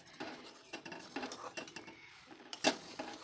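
A spoon scrapes and clinks against a pan as sago is stirred while it boils, making repeated soft scraping strokes with one sharper metallic knock near the end, close up and alone.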